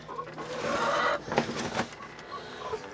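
Broody bantam hen, a lavender Orpington and Cochin mix, clucks in a few low, close, soft bursts on a homestead, with no talking.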